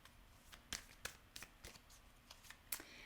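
A deck of tarot cards is shuffled by hand with soft, uneven riffles and flicks, several sharp bursts spaced apart, close and fairly quiet with no talk.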